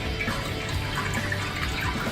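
Water rushes steadily through a whirlpool elbow fitting into a large homebrew brew pot, a continuous close splashing flow with no talking.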